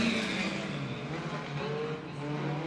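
Several dirt-track race cars roar three wide down the front straightaway at Bakersfield Speedway, a loud, steady engine drone close by with no talk over it.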